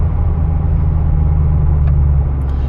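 A VW Corrado G60, supercharged 160 hp, drones steadily while driving, a strong low engine rumble holding constant throughout under road and cabin noise.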